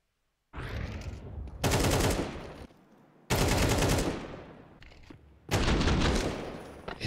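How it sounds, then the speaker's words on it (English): Bursts of AK rifle fire in Counter-Strike ring out loud and close, three long rapid automatic sprays separated by short pauses, alone with no voices. "Hunter putting that AK to use"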